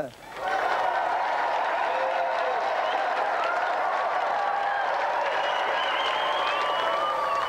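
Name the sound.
audience applause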